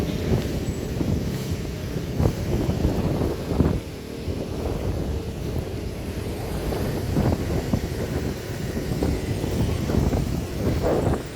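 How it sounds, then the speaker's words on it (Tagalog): Steady wind blows outdoors beside a busy road with many motorcycles, a continuous low rushing roar with gusty swells and passing engine rumble throughout. "Sana ganito lagi, mahangin."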